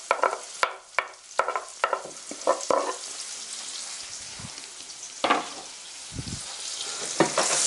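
Onion and green chilli frying and being stirred in a pan, soft steady sizzling broken by scraping clatters and utensil knocks, close and fairly quiet, with no talk.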